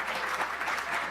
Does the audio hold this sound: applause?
yes